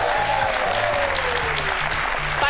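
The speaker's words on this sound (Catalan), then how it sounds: "Ara heu de seguir aplaudint, té el públic." A TV studio audience applauds in a dense, steady burst of clapping that stays even from start to finish, with a voice talking over it.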